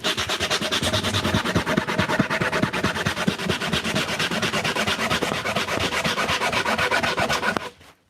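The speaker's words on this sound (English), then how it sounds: "So grip gum removes dirt, dust, and everything else from sandpaper, which is what grip tape is." A grip gum block rubs steadily back and forth over dusty skateboard grip tape, giving a continuous close, loud scratchy scrubbing that runs without a break and then stops abruptly at the end.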